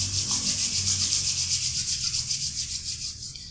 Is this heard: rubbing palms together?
yes